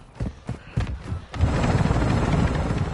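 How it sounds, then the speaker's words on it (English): In a video game, a chopper gunner helicopter starts with a few thumping knocks, then a loud, steady rotor roar and whir sets in and fills the rest of the moment. "Now chopper gunner is inbound hot"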